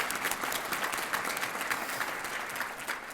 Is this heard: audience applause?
yes